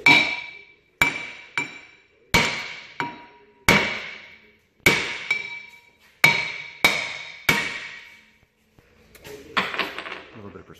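A hammer strikes a stuck front disc brake rotor about a dozen times at an uneven pace, each sharp metallic whack ringing close and loud, with a few quieter knocks and faint talk at the end.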